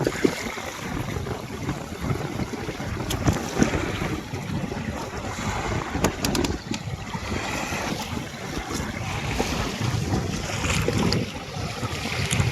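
Strong wind buffets the microphone over rushing, churning river water and big waves during a spring storm, heard from a small fishing boat, a continuous loud roar with no talking.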